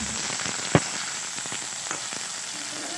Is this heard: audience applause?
no